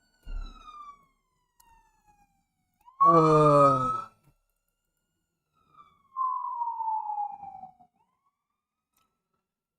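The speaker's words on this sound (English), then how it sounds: "Frickin' siren, of course." A siren wails in a few separate bursts, rising and falling, with quiet gaps between; a man briefly murmurs.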